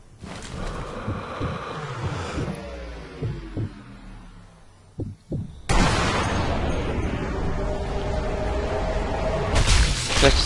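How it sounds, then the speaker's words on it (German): Sniper rifle shots in the video game Sniper Elite V2, sharp loud cracks with ringing tails, one burst near the middle and a heavy report around the sixth second, over a steady rumbling game backdrop. "Vielleicht ist Sander ja weit genug weg, dass er den Schuss nicht mehr gehört hat."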